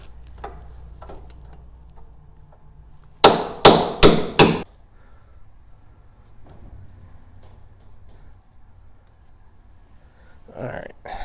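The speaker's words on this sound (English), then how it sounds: "Let me use this bigger hammer, a little bit heavier hammer than that one." Four heavy, ringing hammer blows land in a rapid, evenly spaced burst as a pin is driven out of a baler's hydraulic cylinder, loud and close, with quiet workshop ambience before and after.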